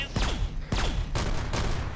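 Rapid gunfire in the military shooter game Arma 3, with several loud bursts of shots cracking in quick succession and echoing tails between them, filling the whole stretch.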